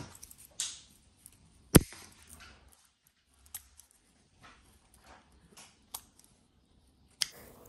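Scissors or pruning shears snip through a woody orchid stem, a few sharp isolated clicks and cuts, one notably crisp snap, in an otherwise quiet room.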